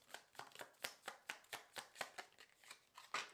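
Close, quiet shuffling of a tarot deck by hand: a brisk, even series of papery card slaps and riffles, about four each second, with no talking.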